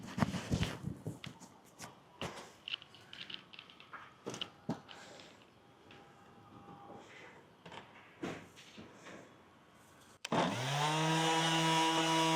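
A power sander on wood, used to strip a surface down to the grain beneath: faint knocks and handling clatter come first, then the sander starts abruptly, close and loud, and holds a steady motor whine.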